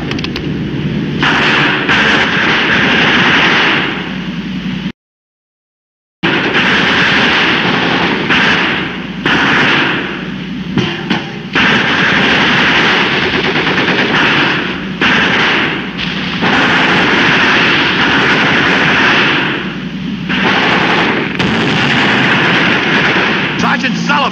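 Heavy gunfire and blasts rage through a tank battle, dense, loud and nearly continuous with one brief dropout, with voices shouting over the din.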